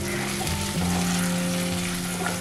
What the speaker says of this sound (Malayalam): ഒണിയൻ നന്നായിട്ട് വഴണ്ട് വന്നിട്ടുണ്ട് ഈ സമയത്ത് നമുക്ക് ഇതിലേക്ക് കുറച്ച് കറിവേപ്പില ഇട്ട് കൊടുക്കാം